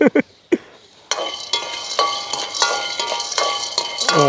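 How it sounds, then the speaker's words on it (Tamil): Peanuts roasting with chillies in a pan in a village kitchen: close, repeated scraping and clinking stirs against metal in an uneven rhythm, with a few sharp knocks at the start. "கடலை பார்த்தீங்கன்னா நல்லா வறுபட்டுடுது"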